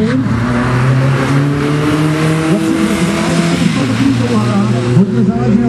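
A tuned car launches at the start of a sprint race at a tuning meet, its engine revving loudly through rising gear pulls, with a voice talking over it.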